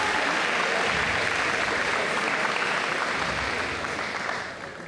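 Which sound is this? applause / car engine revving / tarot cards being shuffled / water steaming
applause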